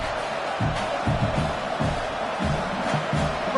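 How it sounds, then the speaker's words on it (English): A home crowd at a Sooners college football game roars in a dense, continuous wash of cheering that stays steady throughout, with faint voices mixed in. "this home crowd getting involved right from the start"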